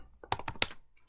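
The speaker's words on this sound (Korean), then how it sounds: "먼저 타이핑을 좀 하면서 볼게요" Quick bursts of typing on a computer keyboard, several sharp close clicks clustered in about a second, fairly quiet, with no voice over them.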